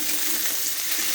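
Chopped tomato lands in a hot frying pan while cooking a potato and katapona fish curry, giving a steady, close sizzling hiss that continues evenly for a moment.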